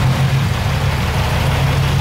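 A 1200-horsepower twin-turbo diesel truck engine idles right after start-up, a loud, steady low rumble with an even throb that holds for the whole stretch, close to the microphone with no voices.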